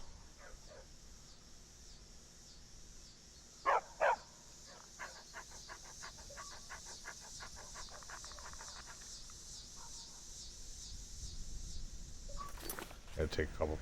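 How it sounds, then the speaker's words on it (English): Dogs in Skyrim give a couple of loud barks followed by quick rhythmic panting and yips, while someone talks over the game's ambient background. "Yeah, look at the dogs."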